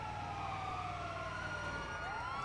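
A video game ambulance's wailing emergency siren sweeps up and down steadily over a constant engine-like drone, loud and continuous throughout.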